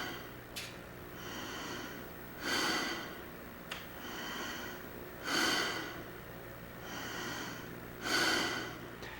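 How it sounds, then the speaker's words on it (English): Slow, relaxed breaths drawn in and pushed out through a tube held between the teeth during a trumpet air exercise, about three breathy cycles with soft rushing swells and brief gaps, close and fairly quiet. "Place the tube between your teeth, then take 5 relaxed inhales and exhales without any break."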